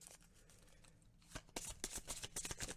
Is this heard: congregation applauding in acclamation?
no